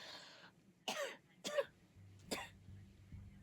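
Three short, raspy coughs spaced about half a second apart, close and fairly loud, followed by a faint low hum.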